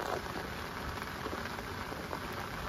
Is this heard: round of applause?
no